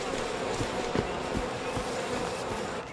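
A dense swarm of bees droning steadily in the video game We Happy Few, a continuous loud buzzing with faint brief clicks, no voices over it.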